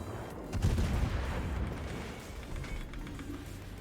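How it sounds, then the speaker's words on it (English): Heavy battleship main-gun salvo in World of Warships, the German Tier VII battleship Scharnhorst firing broadside: a loud booming burst of low rumbling blasts followed by a lingering roar and a later smaller thump. "You should not survive this salvo."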